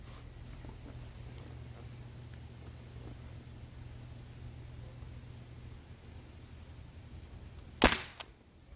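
A single sharp crack from a Crosman 1077W CO2 air rifle fires near the end, standing out after a long stretch of steady low hum and room noise. A faint second tick follows it.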